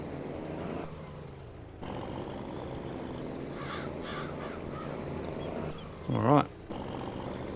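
A truck and trailer in Farming Simulator 22 rumbles steadily with a hiss of air brakes, as someone talks briefly over the engine noise.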